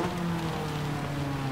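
Steady rain hisses over the Tsukuba circuit during a race in a Honda Civic, with a constant low engine drone running beneath the dense patter.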